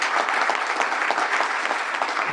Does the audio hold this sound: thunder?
no